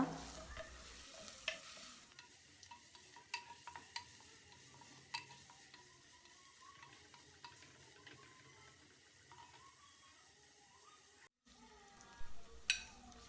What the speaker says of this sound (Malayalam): ഇനി സവാള നന്നായിട്ടൊന്ന് വഴറ്റിയെടുക്കാം.